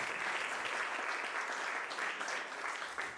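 Steady audience applause at a 10th anniversary celebration gathering, a dense wash of clapping hands, fairly distant and soft, lasting the whole moment.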